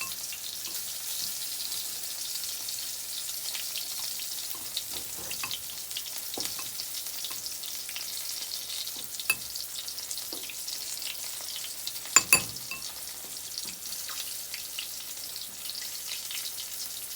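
Chicken of the Woods mushrooms coated in flour and egg fry in a pan, a faint steady sizzle with a few light clinks and scrapes, close by and without talk.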